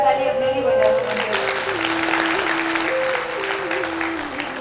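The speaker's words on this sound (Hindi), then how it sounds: "जोरदार ताली अपने लिए बजा दो।" Loud applause from the audience at a Bhagwat katha religious discourse during Navratri in Harda, a broad steady wash of clapping that fills the whole stretch, with a sustained tonal voice or instrument running beneath it.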